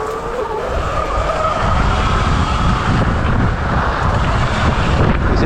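A Surron X electric dirt bike ridden over rocky, stony ground in Corsica, heard as a continuous loud rush of tyre crunch and rolling rumble buffeted by heavy wind noise, close and steady throughout.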